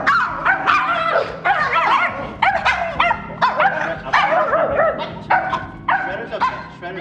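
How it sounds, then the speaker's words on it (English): A dog barks repeatedly and excitedly in quick, close bursts, mixing sharp yips and whimpering cries, with a second dog present and no clear talk over it. "there's another dog here"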